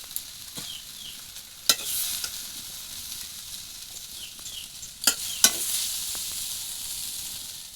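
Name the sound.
onion flower fritters (peyaj koli) sizzling in frying oil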